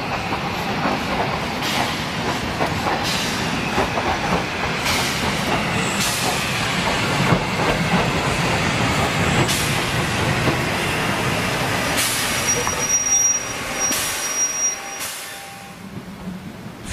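A steam passenger train on the Harzquerbahn rolls into Elend station with rumbling, clattering wheels, hissing and brief squeals, steady and fairly close, easing off near the end.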